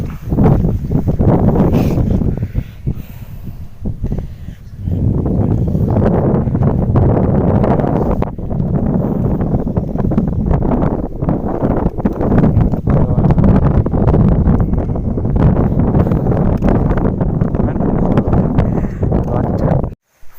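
Strong wind blowing at a dam buffets the microphone with a loud, continuous low roar that surges and dips, briefly easing near the start, with no talk over it.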